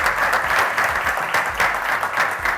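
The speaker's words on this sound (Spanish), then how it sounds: "le podemos dar un gran aplauso" Audience at an organic products training session in a shop gives steady, dense applause, a continuous even wash of clapping throughout.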